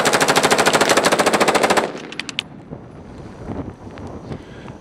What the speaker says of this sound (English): Full auto, just that fast.